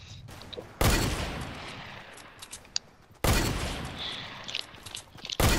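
Sniper rifle fire in a Fortnite sniper shootout: two loud, sharp reports a few seconds apart, each trailing off in a long echoing decay, with a third shot starting right at the end.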